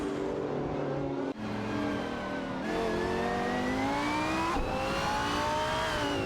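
Racing engines from an AI racing video game, a McLaren 675 LT and a Lamborghini SC18 battling closely, whine continuously with overlapping tones that climb through gear changes, loud and sustained for several seconds.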